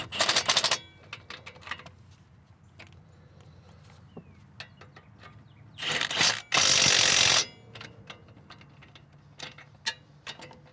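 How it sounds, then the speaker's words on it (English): Ratchet tightening 17mm-headed brake caliper bracket bolts, with scattered clicks, a couple of loud bursts of rapid ratcheting midway and bits of tool and metal handling nearby. "install the two 17mm headed bolts"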